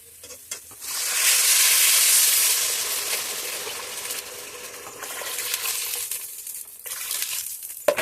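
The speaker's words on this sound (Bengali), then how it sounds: "এবার দিয়ে দেবো জল।" Water poured into a pan of well-fried spices for Bengali muri ghonto sets off a loud, hissing sizzle that swells, then settles into a softer bubbling with a few clinks of stirring.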